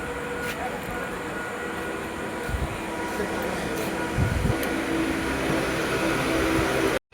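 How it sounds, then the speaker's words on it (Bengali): A train rolling along with riders in its first carriage, a steady broadband rumble and rattle with occasional low thumps, constant and close, ending in a sudden cut. "ট্রেনের একদম ফার্স্ট বগিতে চড়েছি আমরা"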